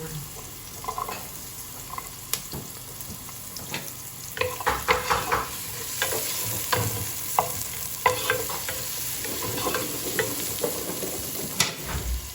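Ginger hitting a hot pan for chicken tinola, with soft sizzling under clattering stirring and scraping of a utensil, fairly quiet and close.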